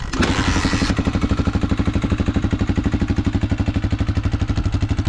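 A 1983 Honda XL 250R dirt bike, kickstarted with no electric starter, catches and settles into a loud, close, rhythmic single-cylinder idle with a quick even thump.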